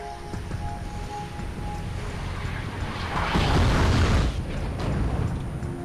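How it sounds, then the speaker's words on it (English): Artillery rocket barrage in Wargame: European Escalation, a dense rumbling wash of overlapping explosions that swells louder midway and stays heavy to the end, with no talking. "So right here goes a rocket barrage"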